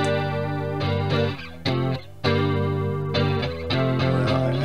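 A chorus patch built for the Spin FV-1 effects chip in SpinCAD Designer, applied to sustained instrument chords, giving a thick, shimmering, slowly wavering tone with a few short gaps between notes and no voices.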